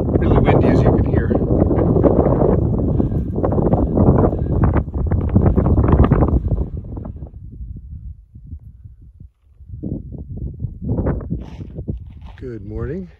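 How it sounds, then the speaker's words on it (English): Strong gusty wind on a mountain trail near the Mexican border on the Pacific Crest Trail roars across the microphone, loud and continuous, then easing into intermittent gusts, with a voice heard briefly. "Really windy, as you can hear."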